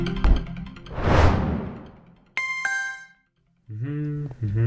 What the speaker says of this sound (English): Oh, a notification.